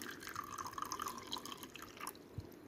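Water trickles and drips into a small bowl holding a quarter teaspoon of sabja (basil) seeds while preparing rose milk, a steady light pouring with faint splashes, close and alone without talk.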